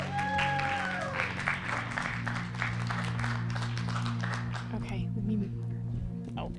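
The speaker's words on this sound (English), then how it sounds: "Give her a round of applause." Audience applause at a summit launch event, a dense burst of clapping that carries on for several seconds, with a voice and other sounds over it, then thins out near the end.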